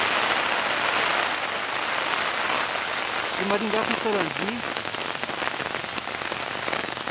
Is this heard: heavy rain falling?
yes